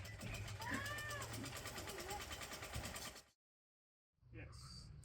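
A cat meows a few times, its rising and falling calls sitting over steady engine-like rumble and background voices, followed by a brief cut to silence before the noisy background returns.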